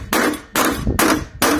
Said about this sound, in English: Already started taking some hammer hits to it